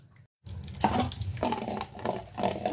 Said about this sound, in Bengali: চলো এগুলোকে সব আগে ধুয়ে রাখি